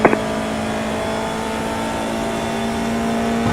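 A Formula 4 race car engine in the iRacing sim holds a steady, high-revving whine with strong even harmonics, continuous and close, after a short sharp click at the start.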